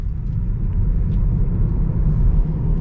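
A 2022 Tesla Model 3 Long Range accelerating at full throttle gives a steady, heavy low rumble of road and cabin noise that holds even for about three seconds, with no talking.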